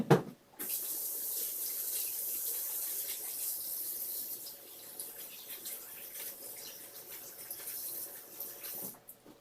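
A tap runs steadily for several seconds while hands are washed under it at a sink during slime making, a close, continuous rushing spray that ends abruptly, with no talking.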